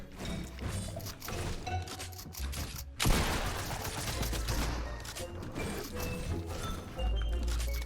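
Video game gunfire crackles in dense bursts and thuds, with a sharp loud volley near the middle and a steady rattle of shots continuing throughout.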